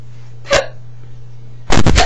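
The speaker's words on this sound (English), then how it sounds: "I have the hiccups." Two abrupt hiccups, one short and one sharper, are separated by a pause over a faint steady hum, loud and close to the microphone.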